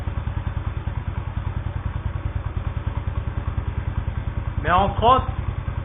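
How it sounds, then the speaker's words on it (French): A 1987 Yamaha SR 125 single-cylinder motorcycle engine with a pierced stock exhaust idles close by in a steady, rapid thumping beat, with a brief burst of speech near the end. "l'échappement il est d'origine, mais juste on va dire qu'il est percé pour entendre ce bruit là"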